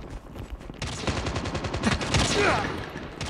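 Bursts of rapid gunfire fill a Call of Duty mobile match, dense crackling volleys running continuously after a brief quieter start, with a voice faintly underneath.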